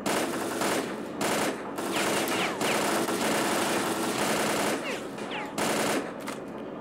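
Sustained automatic gunfire in the shooter game STALKER Clear Sky, loud dense bursts with brief pauses between volleys, running continuously with engine-like rumble underneath.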